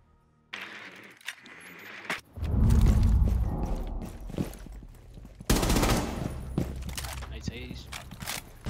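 Gunfire in Rainbow Six Siege: a loud, dense burst of shots near the middle, with more rapid firing after, mixed with game effects and mechanical clatter.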